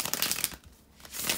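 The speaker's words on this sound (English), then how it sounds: "bear with me a second, guys, to shuffle the tarot cards" Tarot cards being shuffled by hand, a close, continuous papery riffling and rustling that dips briefly mid-way before resuming, with no talking.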